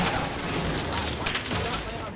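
Gunfire in a video game: dense, continuous rattling bursts of shots with booming impacts, loud and filling the whole moment, while a player talks over it.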